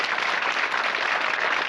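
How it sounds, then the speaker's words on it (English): A television game-show studio audience in 1984 claps for a winning contestant, a brief, even burst of many hands applauding at moderate loudness. "An extra round of applause."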